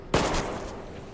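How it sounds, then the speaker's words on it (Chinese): A single sharp gunshot rings out during a special forces simulation training exercise, loud and close, followed by a decaying echo that fades over about a second. "任务结束了还开枪！"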